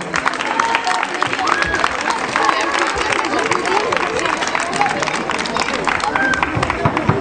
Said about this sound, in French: Donc je voudrais qu'on les applaudisse tous.